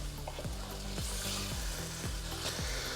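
Fish pickle being stirred in a pan, a constant loud sizzle with regular scraping strokes of the spoon, close and without speech.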